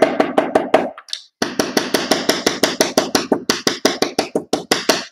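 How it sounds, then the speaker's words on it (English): Polished-face United Shoe Machine Model G hammer striking leather to shape a belt loop around a stick, a steady run of about twenty sharp, close taps at an even quick rhythm, with one brief pause near the start. "Now, to shape this loop, I've got one of my polished hammers."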